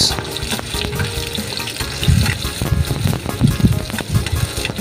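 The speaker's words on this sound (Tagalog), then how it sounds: "Medyo nagtatalsikan tong ating mga sibuyas sa mantika." Sliced onions and garlic fry in hot oil for coconut-milk kamansi and eggplant, making a continuous close sizzle dotted with irregular popping splatters and soft stirring knocks.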